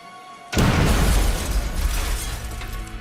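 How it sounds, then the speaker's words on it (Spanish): A parcel bomb goes off with one sudden loud blast, its broadband roar and rumble then ringing on and slowly fading over a few seconds. "La explosión hirió de gravedad al asistente"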